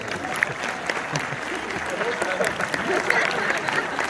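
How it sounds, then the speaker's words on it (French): Audience applause at a film premiere of «Comme par magie», steady dense clapping from a crowd sustained throughout, with voices faintly mixed in beneath. "on peut l'applaudir très fort"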